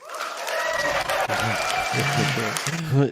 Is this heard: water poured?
no